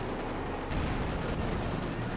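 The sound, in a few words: bazooka shots in the video game Company of Heroes 2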